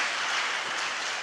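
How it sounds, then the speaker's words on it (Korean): A church congregation at a Friday worship service claps together in a continuous, dense wash of applause, brief and steady throughout. "우리 말씀을 주신 하나님께 영광의 박수 올려드리겠습니다."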